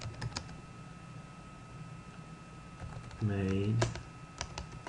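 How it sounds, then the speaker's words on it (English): Light clicks from a computer keyboard tap out irregularly, with a short burst of quick keystrokes near the end, while a voice briefly speaks. "I'm going to type in this one"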